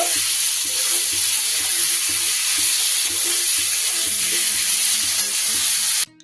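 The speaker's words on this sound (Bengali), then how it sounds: "টমেটোটা ভাজা হতে হতে তেলের মধ্যে" Tomato pieces frying in hot oil, salted to soften faster, give a steady, loud sizzle with continuous hiss throughout and no talking, until it cuts off abruptly near the end.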